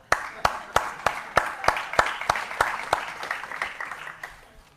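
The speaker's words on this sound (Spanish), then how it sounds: "Vamos a dar un aplauso y una Biblia abierta ahí" A church congregation claps together in a strong, even beat of about three claps a second, loud and close at first, then fading as the hands fall out of sync near the end.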